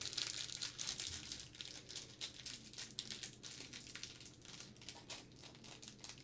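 Plastic packaging of an Army Painter wet palette crinkles and crackles up close as it is opened, a quiet continuous rustling with small tearing snaps.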